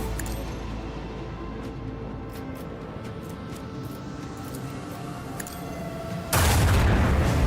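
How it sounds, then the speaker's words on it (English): Macro cannon volley fired in the Warhammer 40K Rogue Trader video game, a dense rumbling barrage that erupts suddenly into a loud, sustained blast near the end after a stretch of low background noise. "Macro cannon, volley!"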